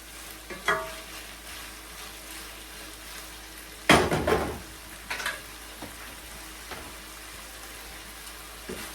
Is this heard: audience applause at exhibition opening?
no